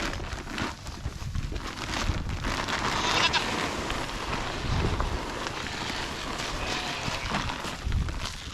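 Goats on a bush farm at feeding time, bleating over wind noise on the microphone, with a few calls rising above a steady outdoor rustle, close by and mostly free of talk.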